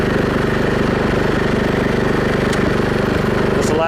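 A Cub Cadet riding mower's engine runs steadily as the machine moves forward, a loud, close, continuous throbbing drone with no pauses.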